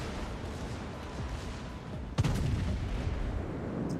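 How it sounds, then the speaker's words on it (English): A single heavy boom from the main guns of the battleship USS Colorado in World of Warships lands abruptly midway, loud and close, followed by a rumbling tail over steady engine and sea noise. "Let's go and watch the Colorado and see what he's got when he shoots at you."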